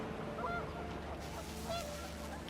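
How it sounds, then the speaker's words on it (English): Panicked geese honk in the video game What Remains of Edith Finch, several overlapping calls over a dense, windy wash of background sound. "The wind picked up, and panicked geese appeared and quickly went."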